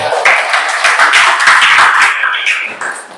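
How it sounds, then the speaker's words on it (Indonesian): A group clapping hands together in a classroom-style session, a loud, close burst of dense applause-like claps lasting a few seconds before tapering off. "tepuk tangan untuk kita semua"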